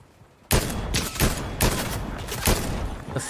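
Gunfire in Fortnite, with a burst of sharp, loud shots starting abruptly and repeating in a rough rhythm of about four heavy cracks over a few seconds.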